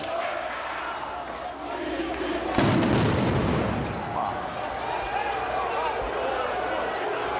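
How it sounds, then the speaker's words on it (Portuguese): A stun grenade bursts with one loud, sharp blast during a football riot in Porto Alegre involving Inter fans, set against a constant roar of crowd noise that continues after the bang. "Mais uma bomba de efeito moral estourando"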